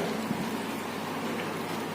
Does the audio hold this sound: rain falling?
yes